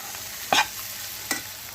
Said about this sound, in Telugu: ఇంట్లో ఏ టమాటో సాస్ ఉంటే ఆ టమాటో సాస్ వేసేసుకోవాలి